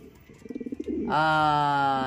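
A racing pigeon coos, a soft pulsing burble followed by a long, steady note close by.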